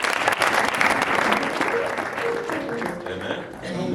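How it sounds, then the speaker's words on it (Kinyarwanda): A church congregation applauds in a hall, a dense burst of clapping that fills the moment and slowly thins, with voices rising beneath it toward the end. "Mumukomera amashyi yo gusanga."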